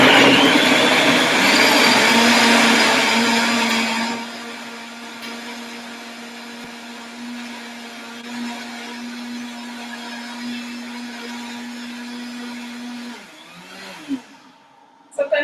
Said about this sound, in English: Everything goes in the blender.